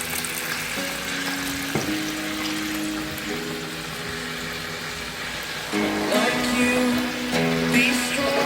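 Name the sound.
pouring beef broth into pot with pork ribs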